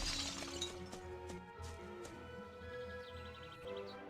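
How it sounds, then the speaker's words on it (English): A glass jar shatters under the Flipendo spell in the Xbox game Harry Potter and the Chamber of Secrets, sharp glassy cracks and clinks over a soft game music bed, fairly quiet. "they're telling me to hit the glass jar with the Flipendo"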